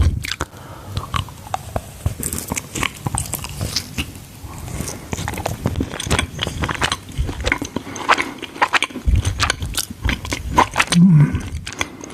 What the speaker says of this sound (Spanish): Le vamos a dar un mordisco.